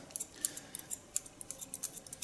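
Straight classic hair-cutting scissors snip through hair in a quick irregular series of crisp close metallic clicks, heard alone in a quiet room.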